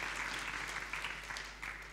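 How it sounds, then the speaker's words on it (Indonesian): A church congregation at a Christmas service claps steadily, a dense ongoing round of applause filling the sanctuary from start to finish. "Tepuk tangan bagi Allah kita,"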